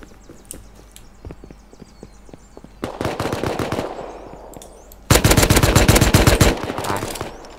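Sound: gunfire in the video game Rust

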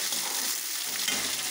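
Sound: vegetables frying in a pan until golden

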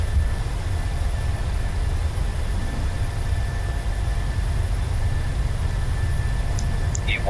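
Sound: Boeing 737-700 jet engines spooling up for takeoff, flight simulator game

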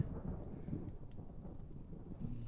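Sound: thunderstorm in video game Pineview Drive

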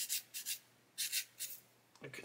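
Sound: sanding stick removing nibs from model kit part

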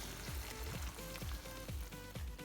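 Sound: tomato sauce poured over fried okra, sizzling

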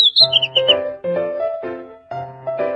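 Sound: small bird chirping, from a video game

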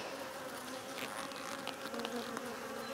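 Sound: honey bees buzzing in an opened split hive

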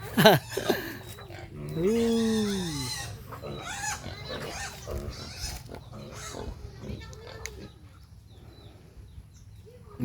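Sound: pig grunting and oinking

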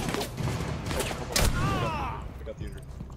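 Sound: shotgun shot in a video game

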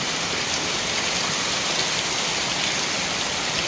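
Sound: rain falling

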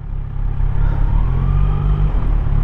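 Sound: passing BMW RT motorcycle

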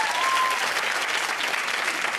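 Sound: audience applause

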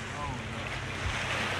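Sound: ocean waves on a beach

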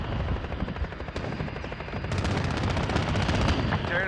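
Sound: gunfire in video game Call of Duty Modern Warfare

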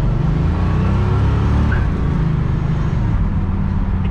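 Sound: 1969 Oldsmobile 442 convertible driving off

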